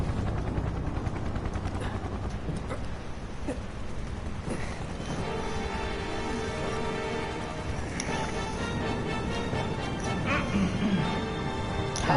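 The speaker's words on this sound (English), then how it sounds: "Bloody helicopter." A helicopter in the video game Final Fantasy VII Remake drones loudly and steadily throughout, with scattered crashing and gunfire-like bursts layered over the rotor noise.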